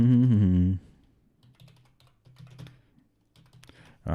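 A computer keyboard being typed on to enter a password, with soft scattered key clicks after a brief burst of speech, close and fairly quiet, then another voice at the end.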